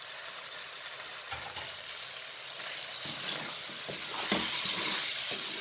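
Ginger is stirred into a well-roasted mixture for a chicken dish, giving a continuous close frying hiss. Occasional spoon scrapes and soft knocks sit on top, and the hiss grows slightly louder toward the end.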